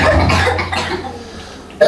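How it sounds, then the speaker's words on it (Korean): Children coughing in a church during a Sunday sermon, a burst of rough coughs filling most of the moment before fading, with another sharp cough at the end. "애들이 엄청 기침 많이 하네요"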